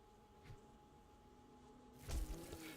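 Bees buzz in the survival game 7 Days to Die, a faint steady drone that surges louder and busier near the end with a sudden burst of activity.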